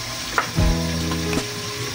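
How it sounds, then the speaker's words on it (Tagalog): Galunggong fish frying in a pan for ginataang fried galunggong, a steady close sizzle with brief clinks and a low hum underneath, no talking. "sandali na lang at luto na ang ating fried galunggong."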